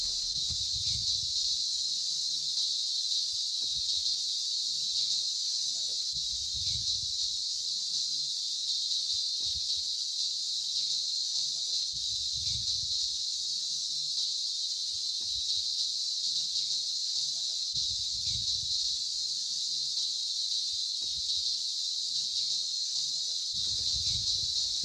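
Summer cicadas in a forest at the Tadoba Andhari Tiger Reserve keep up a continuous high, shrill buzzing drone for the whole stretch, with soft low rumbles pulsing underneath and no speech.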